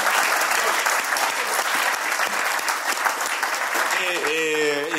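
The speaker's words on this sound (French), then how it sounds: "Je pense qu'on peut les applaudir à fond." An audience at a French stock-trading event applauds the organising team, a steady wash of clapping filling the space, with a voice speaking over it near the end.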